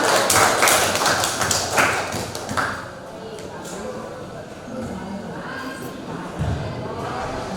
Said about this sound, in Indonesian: tepuk tangan untuk Mbak Azara